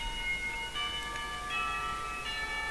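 A school bell chimes in the visual novel Katawa Shoujo: clear, sustained bell tones step through a short sequence about every three-quarters of a second, standing alone with no voices.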